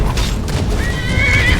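A horse in Skyrim whinnies in a rising, wavering neigh over a dense rumbling game soundscape, close and fairly loud.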